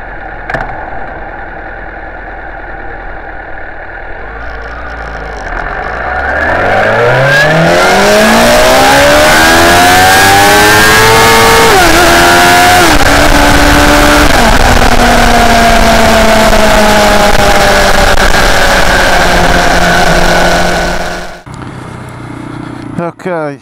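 Motorcycle engine held in first gear, idling then revving hard with a steadily rising whine that climbs, dips briefly and holds high and loud before cutting off abruptly near the end.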